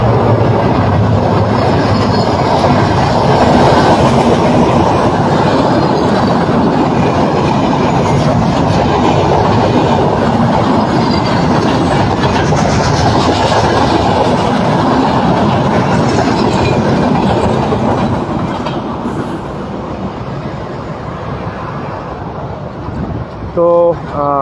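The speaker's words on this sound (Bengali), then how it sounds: "দেখতে পাচ্ছেন ট্রেন কিন্তু চলে এসেছে" A train rumbles past on a railway line running alongside a highway, loud and close with a steady clattering of wheels for most of the pass, then easing off as it moves away near the end.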